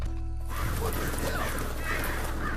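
Red Dead Redemption 2 horses heard near a cemetery, with a brief horse sound at the start, then steady hoof and movement noise under a low rumble. No one speaks.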